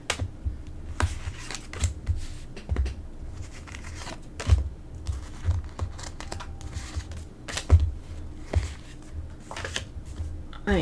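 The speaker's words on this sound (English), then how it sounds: "This deck is kind of big, so it's hard to shuffle." A large deck of oracle cards is shuffled by hand, giving repeated riffling, flicking and slapping bursts at an uneven rhythm, close up with no voice.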